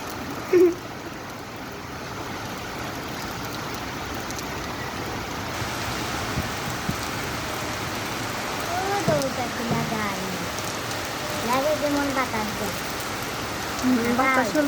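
Steady rain falling in gusty wind, a dense continuous patter and wash that swells slightly at times, with faint voices and a few distant chirps now and then.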